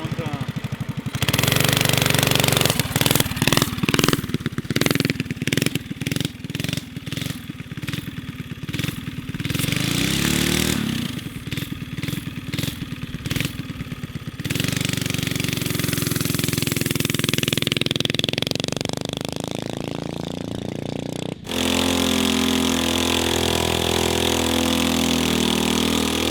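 A vintage 1970s Briggs engine runs on a rat rod mini bike, close and loud, with a rapid chugging rhythm that rises and falls as the throttle changes, blended with a steady engine drone.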